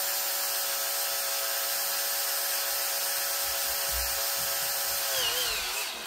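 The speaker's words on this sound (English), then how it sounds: "I'm just gonna drill that out real quick" A power drill whines steadily at high pitch, grinding through a plastic pistol grip module, with a brief dip in motor pitch near the end; no voices.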